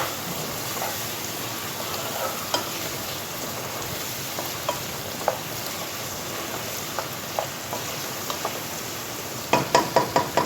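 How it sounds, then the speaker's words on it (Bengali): Spices and chili powder frying in a pan for a leafy greens dish, a steady soft sizzle with sparse scrapes of stirring and a cluster of sharper scraping knocks near the end. "এটাকেও ভালোভাবে আমরা নেড়ে চেড়ে কষিয়ে নেব।"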